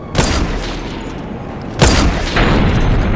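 Heavy booming blasts in GTA Online as shots hit a tank, two loud close impacts with rumbling tails, no voices.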